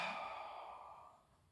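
A single long inhale during a floor exercise session, close and fairly quiet, fading gradually over about a second and a half with no talking.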